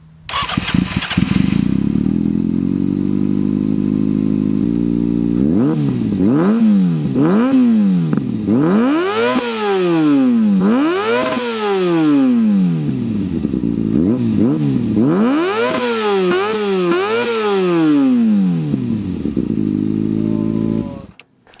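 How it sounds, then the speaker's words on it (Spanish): Kawasaki Ninja ZX6R motorcycle engine starts, idles, then is revved repeatedly in sharp rising-and-falling bursts, loud and close, settling back to idle before cutting off. "Vamos a escuchar esta belleza, amigos, porque es un motor fuera de lo común."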